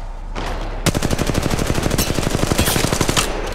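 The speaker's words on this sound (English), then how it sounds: "Shooting!" Rapid automatic gunfire in the mobile battle royale game Apex Legends Mobile, a close, loud, evenly spaced burst of shots lasting about two and a half seconds after a quiet lead-in.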